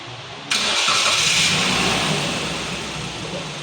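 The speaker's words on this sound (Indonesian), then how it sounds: "coba di starter mobilnya" A car engine cranks on its starter during a fuel-injection tune-up, a sudden loud whirring onset that holds steady and slowly fades as it settles toward idle.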